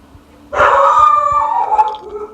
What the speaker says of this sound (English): Boy, that dog can beller.